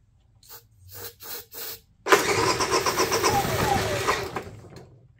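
A Honda EU3000is generator in rough condition is cranked on starting fluid: several short cranking bursts, then the engine catches and runs roughly for about two seconds before dying away. Nobody talks.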